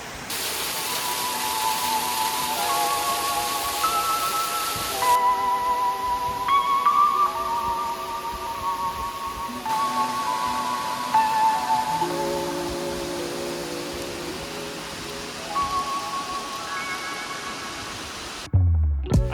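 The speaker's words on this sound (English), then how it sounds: "You can see the waterfalls starting everywhere." Heavy rainstorm in Arches National Park with runoff waterfalls pouring off the rock, a steady broadband hiss of rain and falling water, with tonal musical notes layered over it throughout.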